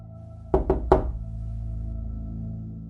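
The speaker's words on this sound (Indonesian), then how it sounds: "Rani tersentak kaget oleh suara ketukan pintu di ruangannya" Three sharp knocks on a wooden door, loud and close, the first two quick and the third after a short pause, followed by a low droning ambience in a tense horror-story setting.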